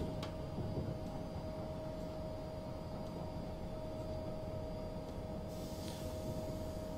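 An Amtrak HHP-8 electric locomotive in Train Simulator 2016 hums along at speed with a steady tonal whine over broad rumbling track noise, continuous and moderately distant, with no voices.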